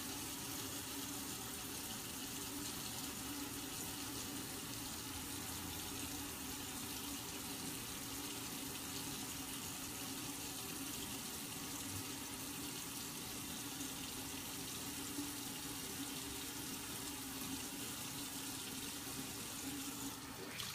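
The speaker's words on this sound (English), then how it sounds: "I'm just wetting the beauty blender until it's like almost dripping" Tap water runs steadily from a faucet to soak a makeup sponge, a continuous close splashing stream that holds unbroken for the whole stretch with no talk.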